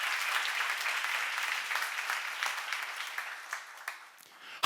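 An audience at a church seminar on Romans breaks into sustained applause, dense clapping from many hands that holds steady for several seconds before thinning out and tapering near the end.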